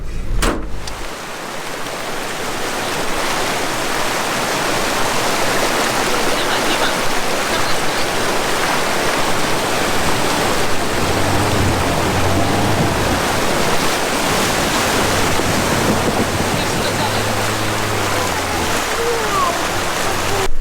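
A stream crossing at a river ford in a high-mountain valley, water rushing steadily and loudly in a broad, continuous wash throughout, with faint voices now and then beneath.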